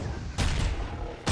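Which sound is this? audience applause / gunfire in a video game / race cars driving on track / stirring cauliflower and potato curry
gunfire in a video game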